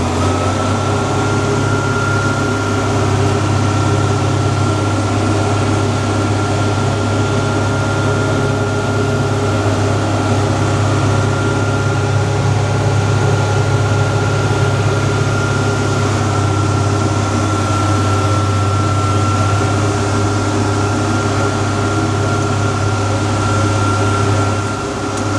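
A tractor engine drones steadily while running a disc mower through a third cutting of hay, a loud, constant mechanical hum with a whirring tone and no breaks.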